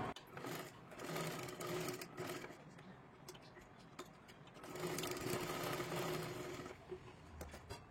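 A sewing machine stitches a blouse sleeve in fast, steady mechanical runs, a loud burst at the start and another longer run later, with a quieter gap between; faint room noise around it.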